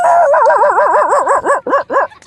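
A man imitating a dog with his voice, giving a rapid series of whining, yelping barks up close that break into separate short yips toward the end.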